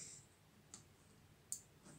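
A few small, sharp clicks spaced apart, quiet and close, as connector pins snap into a xenon headlight plug on a Skoda Octavia 2.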